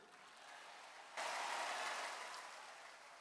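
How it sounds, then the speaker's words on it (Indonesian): A church congregation breaks into sudden applause, a broad, steady clapping that starts abruptly from quiet and carries on to the end, fading slightly. "Sekarang lu udah main tepuk tangan aja."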